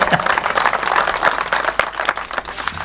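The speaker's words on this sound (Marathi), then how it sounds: "एकदा टाळ्या वाजवायला करायचं" Audience applause filling a devotional gathering hall, steady dense clapping from a large crowd sustained throughout without pause.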